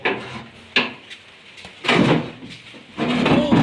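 A door opens onto a rooftop during heavy morning rain, giving a few brief knocking and scraping bursts at close range over a steady wash of background noise, with no talking.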